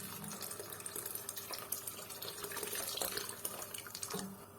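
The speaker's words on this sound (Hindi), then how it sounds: "साथ ही मैं इसमें थोड़ा सा पानी भी शामिल कर रही हूँ।" Water pours steadily and splashes into a pot of Indo-Chinese hot and sour soup in a home kitchen, a continuous close rushing sound with no talk.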